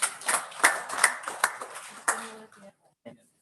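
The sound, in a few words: applause at city council meeting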